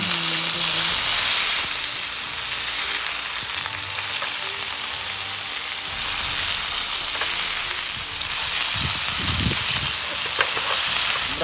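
Hake fillets frying in a pan on a portable stove give off a loud, steady sizzle, with a few soft clunks and scrapes near the end as the fish is turned over.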